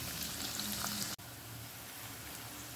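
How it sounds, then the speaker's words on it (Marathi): Onions sizzle loudly in hot oil for chicken biryani, a dense continuous crackling hiss up close that breaks off for an instant and then carries on steadily, with no voices. "चला तर कांदा टाकून देऊया तळण्यासाठी।"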